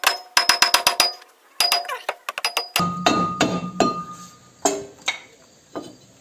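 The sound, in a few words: hammer striking Ford Focus brake disc to remove it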